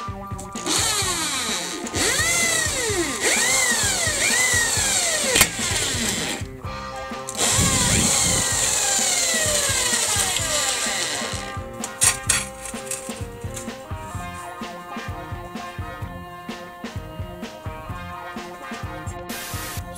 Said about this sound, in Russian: И в центре сверлим отверстие.